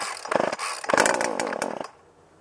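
Chainsaw cold start with the choke on: a couple of quick sharp pull-cord rasps, then the engine briefly sputters and buzzes loudly up close before cutting out within about two seconds.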